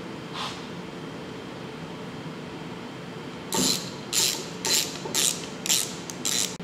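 Ratchet wrench snugging down bolts on a Polaris 700/800 ATV engine plate, heard as a quick series of six close, sharp clicking bursts in a steady rhythm after a quiet stretch.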